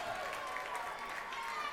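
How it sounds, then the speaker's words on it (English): Crowd applause at a women's futsal match, a steady, fairly faint wash of clapping from the stands that holds through without a break. "And the crowd applaud."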